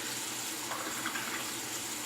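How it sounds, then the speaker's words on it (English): Tap water runs steadily over a shaving brush, a continuous close splashing hiss with no talking. "I'm just going to set it down, let the water run over it a touch."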